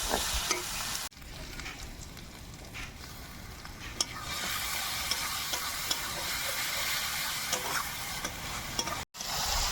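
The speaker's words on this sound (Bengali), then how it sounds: "আর দিয়ে দেবো টক দই" Chicken curry masala with yogurt frying and being stirred in a pan, desi chicken cooking, giving a steady sizzle throughout with occasional stirring clicks and a brief drop near the end.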